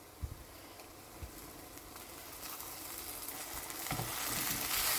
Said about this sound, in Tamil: இப்போ பச்சை வாசனை மட்டும் 1 நிமிஷம் வதங்க விடுவோம்